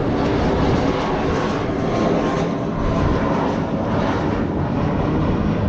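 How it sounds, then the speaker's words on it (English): A Hawaiian Airlines inter-island plane passing overhead, heard from a 50-foot trimaran, a loud continuous engine roar with wind buffeting that stays steady throughout. "That's the little plane I'm getting on later. That's the inter-island flight."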